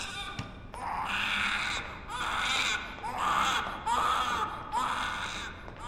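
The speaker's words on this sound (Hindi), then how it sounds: "अरे उधर बच्चा रो रहा है" A newborn baby cries in a hospital ward, with repeated loud wailing bursts at a steady rhythm, close and continuous, and no other voices over it.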